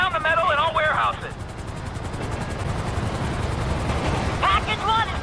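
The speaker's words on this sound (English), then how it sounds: "There's two choppers coming toward my train!" Two helicopters approach a train in GTA 5, a steady rotor roar that swells and fills the scene, with an excited voice shouting over it at the start and end.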